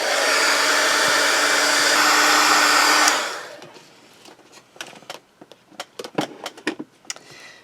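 A hair dryer blows steadily and loudly over glued tin foil for about three seconds, then cuts off, leaving scattered small clicks and taps of handling.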